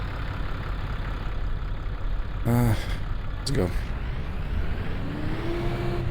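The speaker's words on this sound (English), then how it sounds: "And is this tractor gonna fit in between the vines?" A tractor engine runs steadily between vineyard rows during spraying work, a loud, constant low rumble throughout. Brief voices are heard over it.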